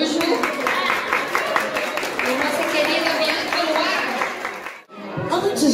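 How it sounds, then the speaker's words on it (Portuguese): Sustained clapping and crowd noise from an audience applauding performer Arthur Araújo at a family children's show, Clubinho da Esquina, steady and full before a brief dip and resumption near the end. "Palmas para Arthur Araújo."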